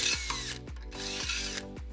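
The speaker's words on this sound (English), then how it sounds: "and then we'll drill our second hole." A power drill bores a hole for a Blue Ox baseplate on a 2015 Fiat 500, its motor whining at high pitch in repeated bursts that wind down and start again, close and loud, with no talking.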